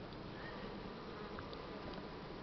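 Honey bees hum steadily at a hive during spring nest expansion and mite treatment, a dense continuous buzz filling the whole stretch with no voices.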